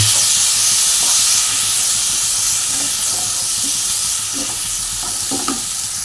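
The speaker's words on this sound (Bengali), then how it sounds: "তো আমি এখন এই পেস্টটাকে এর মধ্যে ঢেলে দিচ্ছি, দিয়ে ভালো করে মশলার সঙ্গে সাঁতলে নেব।" A spice paste for a prawn and elephant-foot yam curry is sautéed in a hot pan, producing a loud, continuous close-up sizzle and hiss with occasional light stirring scrapes.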